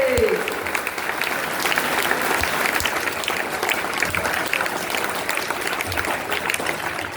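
An audience at a rural innovation talk keeps clapping loudly and continuously, a thick, even roar of applause with a brief voice at the start.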